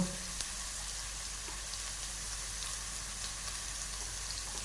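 Turmeric, chili and salt sizzle in oil in a frying pan, a continuous close crackling hiss with a faint stir at the start and no talking.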